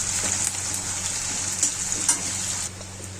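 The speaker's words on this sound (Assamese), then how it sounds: "শুকান জলকীয়া এটা আৰু পিঁয়াজ মিডিয়াম সাইজৰ লৈছিলোঁ মই এইখিনি অকণমান ভাজি ল'ম ৰঙচুৱা হোৱাকৈ" A dried chili and medium-sized onions frying in oil in a pan, a continuous close sizzle with a few light stirring scrapes, dropping slightly in level near the end.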